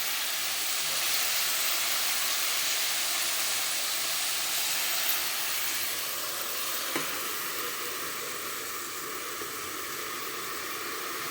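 Lentil fritters sizzle and fry steadily in a covered pan of oil, a continuous close hiss with faint stirring crackle and no talking.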